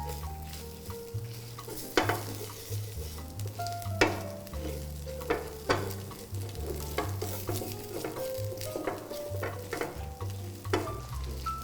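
Red chillies sizzle and fry in a pan while a spoon stirs them, steady crackling with repeated sharp scraping knocks against the metal and a low hum underneath.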